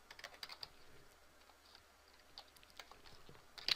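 Light clicking of typing on a computer keyboard, quiet and close, with bursts of keystrokes and short pauses between them and no voices.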